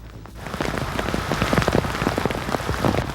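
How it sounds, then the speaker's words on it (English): Steady rain pattering on a hard surface, dense and continuous with scattered nearby drops, no voices. "And then a steady rain."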